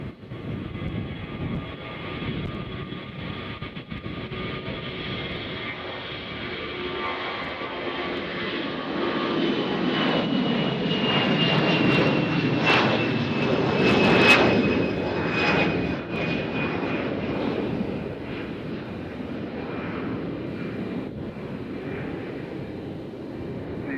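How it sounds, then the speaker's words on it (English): Delta airliner jet flying over Nashville International Airport, a broad engine roar that swells to a peak about midway and then slowly eases, with a faint whine sliding downward, heard at a distance throughout. "Here goes a Delta. I don't know where it's going."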